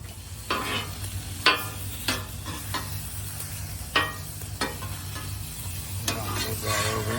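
Pre-made gyro meat sizzles on a hot griddle, a steady close fry broken by sharp scraping stirs of a spatula at irregular intervals.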